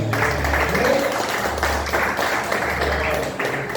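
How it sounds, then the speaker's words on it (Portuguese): A church congregation claps together in steady rhythmic applause, a close busy patter running through the clip with a low hum of music or voices underneath. "Vamos dar salva de palmas para Jesus, irmão."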